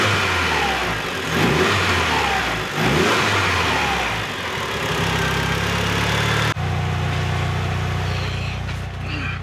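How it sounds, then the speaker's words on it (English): A Mitsubishi Evo engine at a steady warm-up idle, a close, continuous low rumble with a couple of brief revs early on and an even drone after, no talking. "I'm pretty confident that I finally fixed the idle on the EVO."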